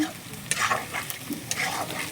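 Onion and potato sizzle and crackle in a hot pan while a utensil stirs and scrapes them in a few bursts, close and steady.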